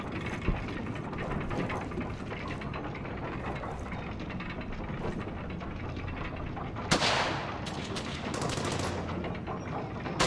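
Brothers in Arms battle scene with dense, continuous rattling gunfire and distant booms under a steady roar, plus a sharp loud crack about two-thirds through.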